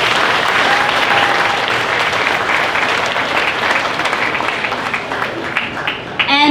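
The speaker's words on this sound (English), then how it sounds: "Let's go ahead and give Margot a warm round of applause" Sustained applause from a sizable crowd at a county fair queen and princess coronation, steady and fairly loud, tapering slightly toward the end as a few last claps ring out.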